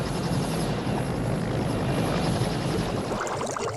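Helicopter in flight, its rotor and engine roaring loud and steady with dense wind rush, the sound holding constant before dropping away sharply near the end.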